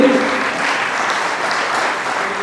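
An audience at a Sarv Brahmin talent felicitation ceremony applauds with a continuous, fairly loud wash of clapping that holds steady for a couple of seconds, with no speech over it.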